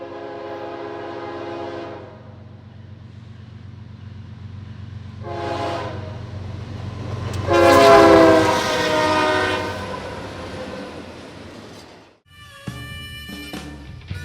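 Norfolk Southern heritage locomotive 1072 passes through Richmond, Ohio, sounding a long horn blast, a short one, then a loud sustained blast, over a steady rumbling roar that fades before a brief clatter at the end.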